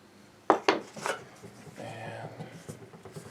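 Sawdust and glue are stirred into wood filler with a few sharp scraping taps at first, then softer rubbing and mixing up close, while a person talks over it.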